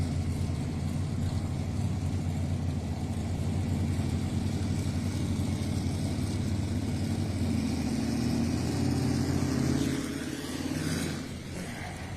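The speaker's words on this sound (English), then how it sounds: "with all the superboats idling, getting temperature into their motors" V8 superboats idle in the pit area, a dense, steady low engine rumble from several boats running together, loud and continuous before easing slightly near the end.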